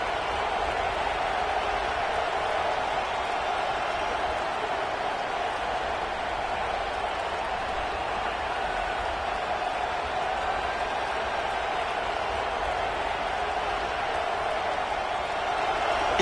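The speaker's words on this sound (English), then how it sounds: "this crowd is fired up. Listen to this noise here." Stadium crowd at a football game, a steady, dense roar of cheering and noise sustained throughout, loud and continuous with no clear breaks.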